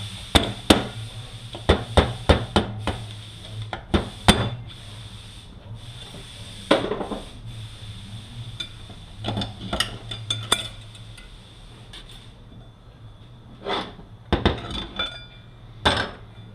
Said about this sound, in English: I just get a screwdriver, pop my snap ring off.